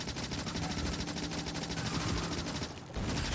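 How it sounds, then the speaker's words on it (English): Rapid, dense bursts of explosions and gunfire from grenades thrown in the factory-building game Factorio, a steady loud barrage with a brief dip near the end and no talk. "Throwing liberating grenades."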